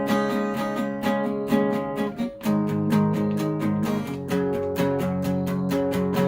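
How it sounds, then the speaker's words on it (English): Acoustic guitar strummed in a steady, even down-up rhythm, each stroke crisp and close, continuing without pause. "It's going to be the same as just back and forth, down, up."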